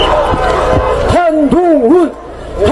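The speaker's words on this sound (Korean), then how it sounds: "여러분 환호해 주십시오" A crowd at a Korean political rally shouts and cheers loudly and close by, the noise swelling in waves, with a voice on the public address system over it.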